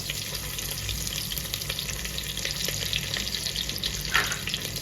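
Garlic paste and red chilli sizzle steadily in a pan, a continuous crackling fry with a faint stirring scrape near the end, no talking.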